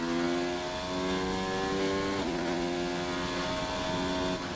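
A race car engine in a racing game at Australia holds a steady, loud, high-pitched whine, with a brief pitch dip from a gear change midway before climbing again, no voices present.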